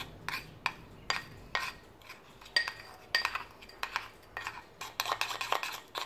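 A spoon stirs a thick lemon cream mixture in a bowl, making quick, rhythmic scraping and clinking strokes against the sides, close and fairly quiet, with no one talking.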